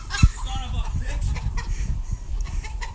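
Chickens cluck and squawk while being chased, with a sharp burst early and scattered clucks after, mixed with outdoor movement and someone talking.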